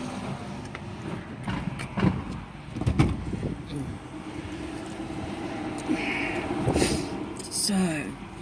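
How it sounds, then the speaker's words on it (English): Traffic passes outside a parked car with its door open, a steady road rumble with passing vehicles beneath someone talking close by. "I'm sorry for the noise of the traffic in the background"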